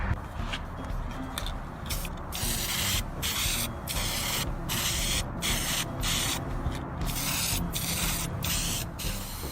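Steady hissing of a spray paint can, satin finish on a child's toy Jeep seat, runs almost without pause, broken by a few short gaps between passes, close and fairly loud.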